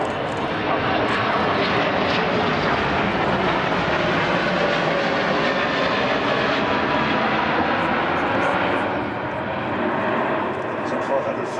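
Boeing 777 airliner flying a pass at the Warbirds Over Wanaka 2012 airshow, a loud sustained jet engine roar holding steady throughout, with a commentator talking over it.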